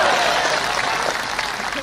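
An audience at a large Islamic religious gathering in Bintan claps together in a broad wash of applause. The sound is loud and dense from the start, then thins slightly toward the end.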